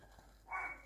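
A single short dog bark or yip, moderately loud and fairly close, rising out of a quiet room background near the end of the moment.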